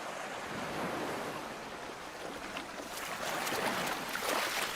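Ocean surf washing onto a beach where Gulf grunion spawn, with a continuous soft hiss of breaking waves that swells slightly toward the end, faint and steady with no voices.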